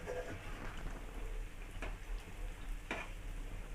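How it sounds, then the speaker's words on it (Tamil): Pieces of bread frying in hot oil make a quiet, continuous sizzle with soft crackles and a couple of brighter pops, close and steady throughout. "இப்போ வந்து நம்ம எண்ணெயில் போட்டு பொரிச்சு எடுத்துப்போம்."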